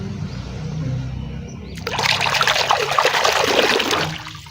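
Clean water pours and splashes over toy vehicles such as racing cars, trucks, trains and a tank as they are washed, a quiet low rumble giving way to a loud, steady broadband gush of running water for the last few seconds.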